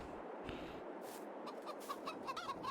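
Several soft, short clucks from chickens in the video game Farming Simulator 22, in a quiet setting, scattered irregularly and fairly faint, with no talking.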